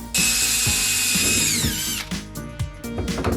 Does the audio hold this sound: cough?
no